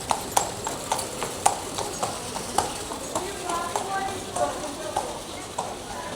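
Horse hooves clip-clop on the cobbled streets of the Christmas market in Bruges, Belgium, a steady rhythm of sharp nearby strikes with crowd murmur and some talk around them.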